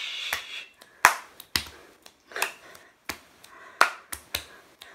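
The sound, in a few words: boom snap clap body percussion with finger snaps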